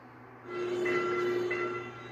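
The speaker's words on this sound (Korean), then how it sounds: "곧바로 건널목으로 들어오던 열차가 버스와 부딪히고 놀란 시민들이 소리를 지릅니다." A train entering a railroad crossing and striking a stopped city bus at night, heard as a loud blaring horn over rumbling rail noise, swelling in after a half-second and holding close.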